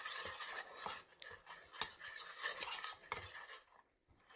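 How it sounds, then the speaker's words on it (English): A spoon stirs a vanilla custard mixture in a bowl, making a run of quick, rhythmic scraping and clinking strokes, close and fairly soft, with no voices. "I'm just going to stir this up"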